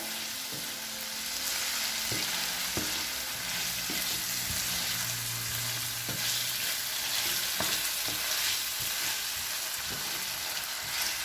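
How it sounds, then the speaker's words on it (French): Vegetables for Spanish paella sizzle steadily in a pot while a utensil stirs and scrapes against it, with occasional clinks, continuous and close. "Je continue à tourner ma marmite, ma casserole."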